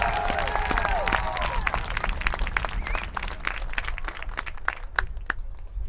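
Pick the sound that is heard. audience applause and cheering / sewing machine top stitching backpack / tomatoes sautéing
audience applause and cheering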